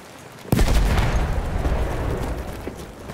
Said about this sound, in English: This grenade for them!